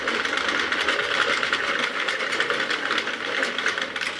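Sentro knitting machine with its handle being wound, making a steady, close, rapid mechanical clatter and whir that runs continuously with no speech.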